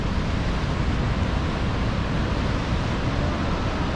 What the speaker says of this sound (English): The surfers have got awesome waves here.